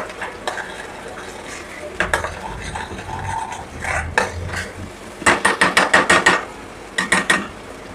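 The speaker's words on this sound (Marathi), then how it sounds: "हे वाटण जरा परतून घेते" Ground spice paste sautéing in a pan, a low sizzle under repeated scraping and clinking of a spoon against the metal, ending in quick rhythmic bursts of stirring, close up.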